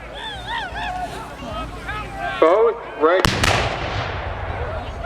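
Cannon fire from British and American artillery at the 2013 Mississinewa battle reenactment: one sharp, loud boom rolls out and fades after a stretch of crowd chatter and babble, with voices continuing over the decaying rumble.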